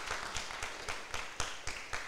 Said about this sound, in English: Let's give Aubrey Gray a round of applause.